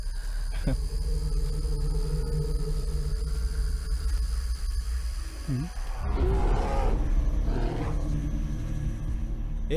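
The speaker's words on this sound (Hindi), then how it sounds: "वो भालू की आवाज थी।" A deep animal roar used as a movie sound effect for a bear rumbles under a steady low drone, with a swelling growl near the end.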